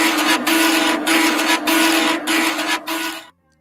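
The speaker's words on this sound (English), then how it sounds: "It's a it says it's a floppy disk reader." A floppy disk reader runs with a loud, steady mechanical whir and a sustained tone, broken by four brief rhythmic pauses before it cuts off abruptly near the end. No voices.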